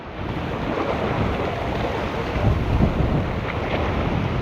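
Strong wind roars across the microphone at the finish of a Frisian skating tour, a steady loud rushing with gusts and no voices.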